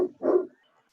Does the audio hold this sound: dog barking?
yes